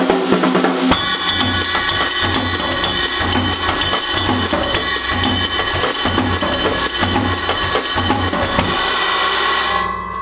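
Samba groove on a drum kit with a varied left-hand pattern, steady repeating kick pulses under busy snare and cymbal strokes for about nine seconds, loud and close, then stopping.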